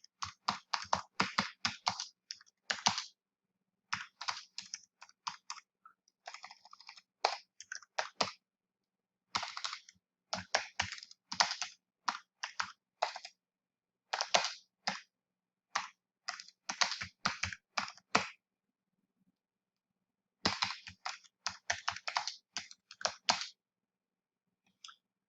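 Typing on a computer keyboard comes as quick clusters of crisp, close key clicks, pausing briefly between runs of words and stopping for a couple of seconds near the end before a final burst.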